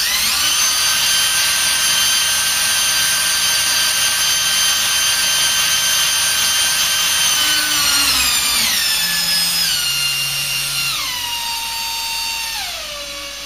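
A loud power drill whines continuously with high tonal harmonics, its pitch sliding down in steps as it slows near the end.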